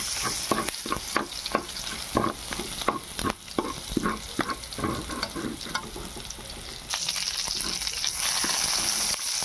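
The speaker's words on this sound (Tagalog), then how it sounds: "I-light brown lang nato. Ahos." Garlic frying in a pan until light brown for a sotanghon soup, a continuous crackling sizzle broken by frequent spatula scrapes, close and fairly loud, with no voices.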